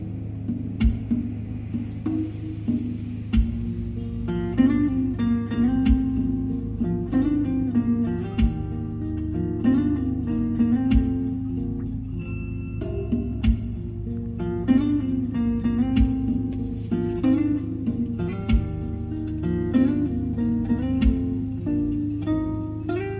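A Honda Jazz GK5 with a fully modified car audio system plays music loudly and steadily, with a strong bass line and layered melodic parts running throughout.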